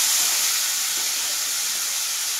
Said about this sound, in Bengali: এই মশলাটা আমি এবারে খুব ভালোভাবে ভাজবো